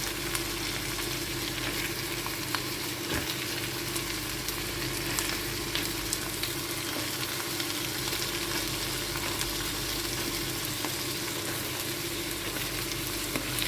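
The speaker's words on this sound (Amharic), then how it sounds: "የተፈጨ ስጋ ነው የምጨምርበት።" Minced meat fries in a pan with a little butter or olive oil, giving a steady, dense sizzle with occasional soft stirring clicks throughout.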